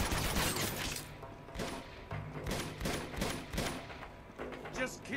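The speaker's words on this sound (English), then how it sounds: "Just keep shooting." Rapid bursts of gunfire from an Uncharted 2 shootout crackle in dense, repeated volleys, loud and close, with game sounds layered throughout and no clear talk.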